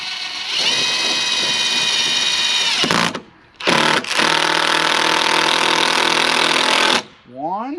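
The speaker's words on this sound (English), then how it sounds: "now I need to get my screws in here so it holds it in place." A power drill drives screws into a horse-fencing estate gate. Loud, close motor whine in sustained bursts rises and holds, then drops out briefly between screws before running long again. A voice is also picked up.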